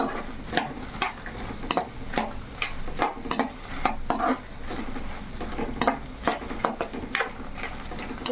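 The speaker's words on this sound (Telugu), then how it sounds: "కొంచెం నూనె వేడెక్కినా కూడా మిరపకాయ అనేది మాడిపోద్ది కలుపుకుంటానే ఉండాలి ఇలాగా" Dried red chillies frying in hot oil for gongura roti pachadi, stirred steadily in the pan: a constant close sizzle broken by repeated sharp scrapes and clinks of the spoon against the pan, with no talking.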